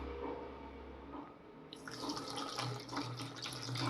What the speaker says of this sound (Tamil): இதில் நம்ம பால் கொஞ்சம் கொஞ்சமாக ஊற்றி மிக்ஸ் பண்ணிக்கலாம்.